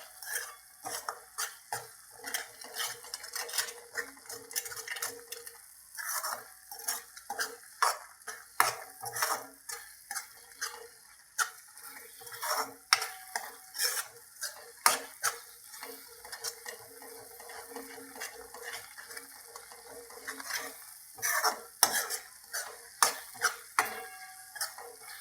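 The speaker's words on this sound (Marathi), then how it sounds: "आता याला एक थोड्या वेळ फ्राय करून घेऊया" Masala with a spoonful of coriander powder being stirred and fried in a pan, a steady soft sizzle under repeated scraping and clinking of a spoon against metal, close and fairly quiet, with no talking.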